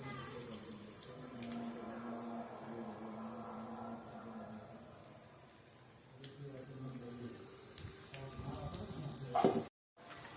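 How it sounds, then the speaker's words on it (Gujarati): A second batch of ulta vada pav deep frying in hot oil, a continuous soft sizzle and bubbling hiss with voices talking faintly alongside. "જો આપણી બીજી બેન્ચ પણ તળાઈ જવા આવી છે"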